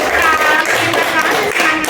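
Brief clapping from a small group in a school classroom session, a close, quick patter of hand claps lasting about two seconds.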